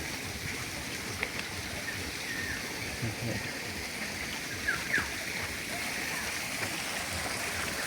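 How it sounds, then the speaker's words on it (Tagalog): A waterfall inside the Enchanted Cave in Bolinao, Pangasinan, makes a soft, continuous rushing hiss like steady rain, faint and even throughout, with a few small splashes and clicks. "Saka may waterfall sila dito guys"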